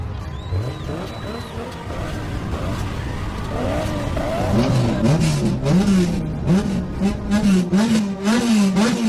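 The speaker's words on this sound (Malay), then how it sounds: "Best tak bunyi enjin aku." A car engine revs loudly and repeatedly before an illegal street race, its pitch climbing and falling in close, rising sweeps that grow stronger toward the end.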